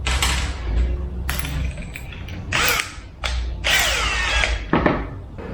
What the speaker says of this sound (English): I'm gonna pre-drill holes, screw it from the bottom